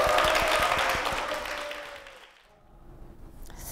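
Church congregation clapping to welcome a deacon, a brief burst of many hands that starts fairly loud and fades away within about two seconds, leaving near-quiet room sound.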